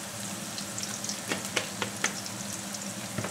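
Curry leaves crackle and sizzle as they drop into pickle spices frying in hot oil for a kambili naranga achar, a steady close fry with scattered sharp pops.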